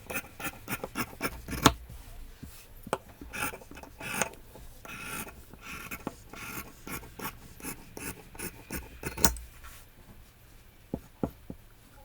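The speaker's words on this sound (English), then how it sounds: "I'm going to cut the outermost line first for the both layers" Scissors cut through men's shirt fabric along a marked line, close up, making quick runs of crisp snips that pause now and then before starting again.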